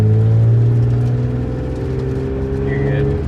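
A Lexus SC300 engine revs with the clutch held in, a steady raised whir of rising and holding RPMs close by, with people talking over it.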